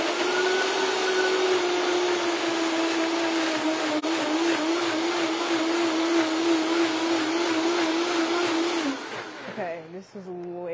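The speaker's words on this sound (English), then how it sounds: "So I'm going to blend." A countertop blender whirs at full speed, loud and steady, as it blends ginger for Ghanaian cooking, then cuts off near the end as a voice speaks briefly.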